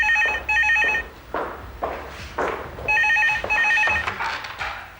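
Telephone ringing indoors in two bursts of repeated electronic trills, loud and close, separated by a pause filled with footsteps and movement, with no talk.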